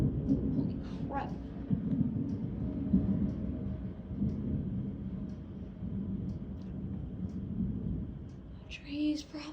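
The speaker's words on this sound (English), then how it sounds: "You just missed the giant lightning." Thunder from a lightning storm rolls as a continuous low rumble for the whole stretch, steady and moderately loud, with a brief swell near the end.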